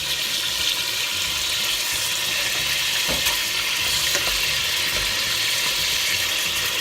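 Chicken sizzling in a pan after two tablespoons of balsamic vinegar go in, a loud dense hiss and crackle of frying that runs continuously, close and steady.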